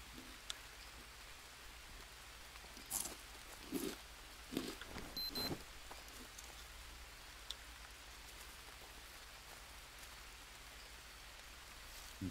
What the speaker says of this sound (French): Ah ouais, là il pleut bien.